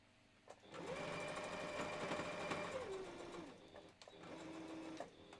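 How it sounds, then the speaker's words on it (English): A sewing machine stitches fabric for a Christmas stocking: two runs of fast, steady mechanical whirring with rhythmic needle clatter, close, separated by a brief pause. "I'm actually going to put a zigzag stitch through it too"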